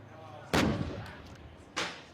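A Mongolian tank team's tank gun fires at a target: two heavy booming shots about a second apart, each with a short rumbling decay, over a faint background.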